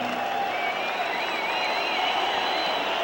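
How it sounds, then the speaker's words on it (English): Crowd cheering at a boxing venue as a fighter is led in on a big horse, a steady dense roar sustained throughout, loud and continuous. "Listen to this for a cheer."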